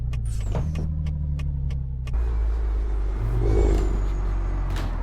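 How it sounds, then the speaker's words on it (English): A heavy truck in Euro Truck Simulator 2 heard from outside, its engine droning low and steady with a whirring tone on top, then shifting into a rougher rumble that swells briefly before settling. "This truck sounds really, really nice from the outside."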